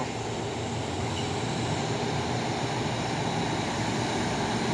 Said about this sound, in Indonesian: Masuk lagi truk trailer ini.